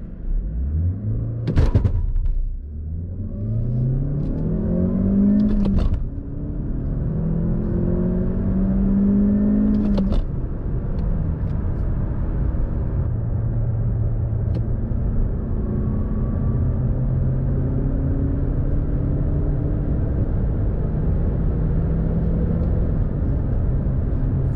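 A 2022 Mazda 3 e-Skyactiv X with manual gearbox and front-wheel drive accelerates hard from standstill, its engine note climbing through several gear changes with brief dips between pulls, loud and close, then settling into a steady drone at speed.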